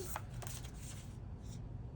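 Soft, close card shuffling, a few faint riffles over a steady background hiss.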